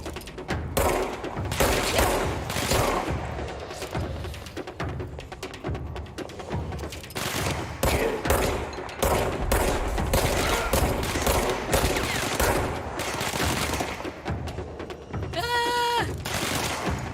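Rapid gunfire from the video game Control rattles in dense bursts across the whole stretch, loud and close, with a short gap and a burst of game effects near the end.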